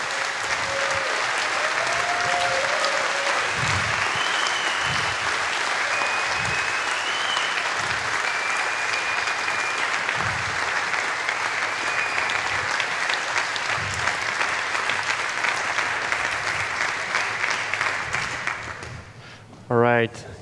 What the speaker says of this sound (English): Let's give a really big, big round of applause.